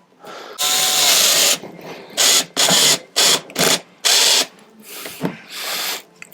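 A power drill on light torque fires in a series of bursts on a Land Rover Defender, one long run followed by several short pulses of varying length, close and loud.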